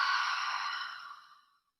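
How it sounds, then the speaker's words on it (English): A long, soft exhale out through an open mouth during a yoga flow, one breathy sigh that fades out over about a second and a half, close and alone. "exhale through the mouth"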